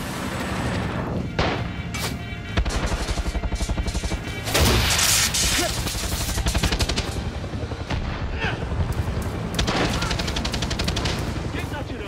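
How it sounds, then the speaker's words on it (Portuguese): Rapid bursts of gunfire from the video game Far Cry 6, with dense rattling volleys and sharper booming shots layered over one another throughout, loud and continuous. "Quem tá atirando?"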